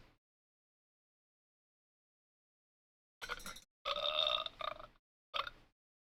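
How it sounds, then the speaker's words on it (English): A burp sound effect plays in a few short, close bursts after a long silence. The first two belches are longer and the last is a quick one. "The burp works."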